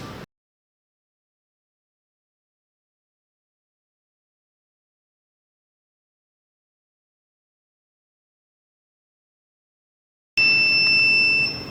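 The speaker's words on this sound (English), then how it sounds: "When you hear the alarm, it shows the process is finished." After a long stretch of silence, a TUOLI TL-X9 phone case machine's completion alarm sounds near the end as a loud, steady high-pitched electronic beep.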